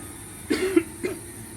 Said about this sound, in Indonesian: afan ya kalau tadi Ustadz banyak batuknya